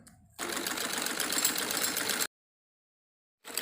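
Electric sewing machine stitching the cuff of a salwar made from saree fabric, a steady fast whirring run of about two seconds, then silence before it starts again.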